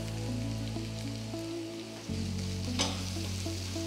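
Chopped curry leaves sizzle in hot oil with a chicken roll filling, giving a steady close frying crackle with light stirring.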